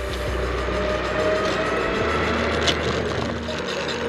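The brakes of an IOHawk Legend rub and grind faintly while it is ridden on a range test, a thin steady squeal sitting over rolling road noise and low rumble.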